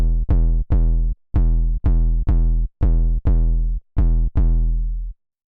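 A heavy 808 bass with its EQ bypassed plays a sequence of about ten punchy, booming notes with long decaying tails in an uneven rhythm, loud and close with no talking.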